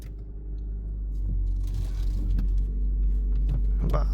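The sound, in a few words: car engine starting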